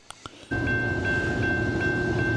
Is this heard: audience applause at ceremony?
no